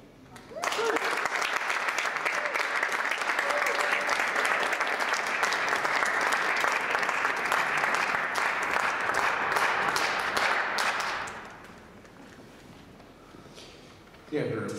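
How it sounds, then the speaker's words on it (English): Audience applause after a performance, sustained loud clapping that starts abruptly and carries on for about ten seconds, then fades away into quiet before a voice returns. "Let's give him a round of applause, please."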